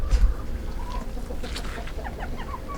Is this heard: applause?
no